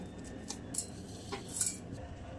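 Ground batter scraped out of a grinder jar into a bowl, heard as a few light metallic scrapes and clinks of a spoon against the container over a quiet background, with no voices.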